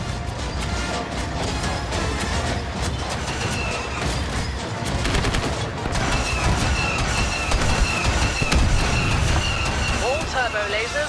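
Star Wars Battlefront II battle noise: a dense, continuous wash of laser blasts, crashes and explosions as a turbo laser is destroyed, with a voice speaking over the din.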